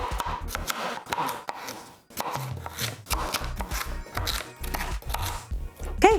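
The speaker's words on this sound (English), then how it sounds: "now that we are done chopping up all of our sweet potatoes" A knife chops sweet potatoes on a cutting board in a series of quick, close, uneven strokes with brief pauses, scraping and knocking throughout, no talking.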